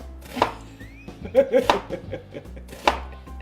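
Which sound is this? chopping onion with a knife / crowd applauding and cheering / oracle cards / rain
chopping onion with a knife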